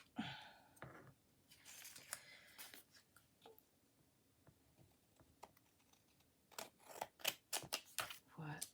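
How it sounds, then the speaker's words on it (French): Scissors cut paper while a greeting card is being made: a series of crisp snipping and rustling bursts, close and clustered in quick runs, with quieter handling sounds in between. "Et je vais découper tout ça."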